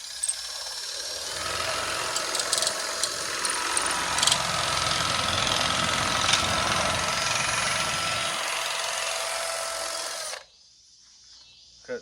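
A loud, steady power drill whirs with a drill-mounted cutting attachment biting into material, running continuously for about ten seconds before cutting off abruptly.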